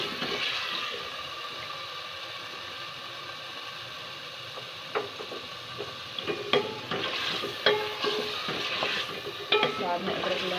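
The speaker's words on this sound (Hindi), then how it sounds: "हम चिकन को अच्छी तरह से भूनेंगे ताकि उसका कच्चापन दूर हो जाए" Chicken sizzles and fries in a hot pan while a spoon stirs it, with scraping clicks growing busier over a steady hiss.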